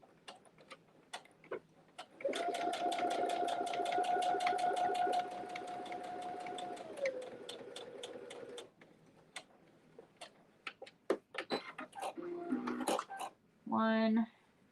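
A sewing machine runs steadily for about six seconds, sewing a tight little stitch on an H2O 2Go sling, then slows and stops, followed by scattered clicks and a brief whirring burst near the end.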